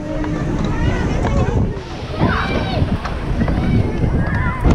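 Strong wind buffeting the microphone outdoors at a Dutch amusement park, a steady loud rushing roar with gusts throughout, and a few faint voices in the background.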